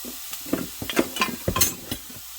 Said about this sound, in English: Just brown your meat up.